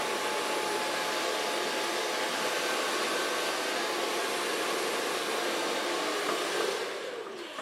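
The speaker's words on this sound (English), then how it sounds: "So far blow drying." A hair dryer blows steadily on a blond pixie-cut wig, a loud continuous whooshing roar up close that eases slightly near the end, with no talking.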